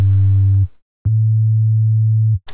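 A pure, deep sine-wave bass tone from a single FL Studio 3x OSC oscillator sounds twice, a short note then a longer sustained one, clean and steady with a brief gap between.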